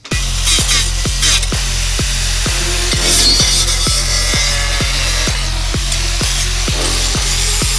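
A powerful angle grinder with an abrasive cutting disc cuts steadily through material, a loud continuous whine with a regular repeating pulse and gritty hiss, close and unbroken for the whole stretch.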